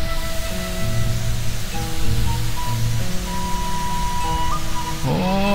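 The Curug Panganten waterfall spills into a river with a steady, loud broadband rush that continues without a break. A few thin tonal sounds ride above the water.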